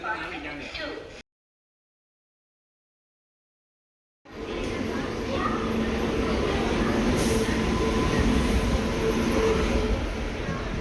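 Tejas Express from Madurai to Chennai Egmore entering Tambaram station: a steady, loud rumble of rolling train noise close by after a short silent break, continuing evenly to the end.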